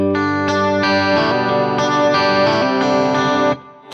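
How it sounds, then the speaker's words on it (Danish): A 12-string electric guitar plays a clean arpeggio with bright, shimmering chorus-like doubled notes ringing one after another at an even pace. It is loud and up close, and the last note is cut off into a faint tail. "så er det smurt ind i 12-strenget elektriske guitar"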